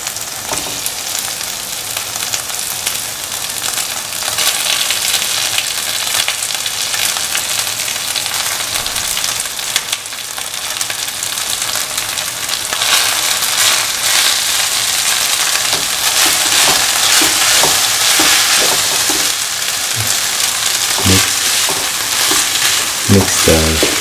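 Cooked rice stir-fried in a pan with a green mango mixture and curry leaves, a steady sizzle with scraping stirring strokes growing busier toward the end, close and continuous with no talk.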